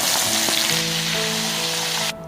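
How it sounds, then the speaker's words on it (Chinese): Starch-coated prawns sizzle and crackle steadily in a hot pan, a loud continuous frying hiss close up with faint clinks of cookware, cutting off sharply at the end. "大虾撒上淀粉煎一下，"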